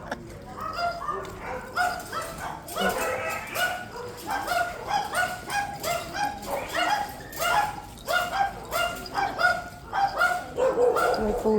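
Dogs bark and yip in a rapid, continuous stream of close, moderately loud calls, several animals overlapping with occasional whimpers, with no talk over them.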